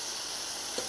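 Puffball mushrooms frying gently in vegetable and butter oil give a steady, soft, continuous sizzle, close and even throughout.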